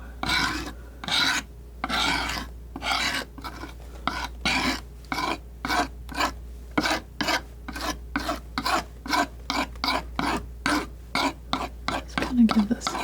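A palette knife scrapes thick paint across a canvas during a mountain sunrise painting, producing close, rhythmic raspy strokes in quick regular bursts with brief pauses, heard alone without talk.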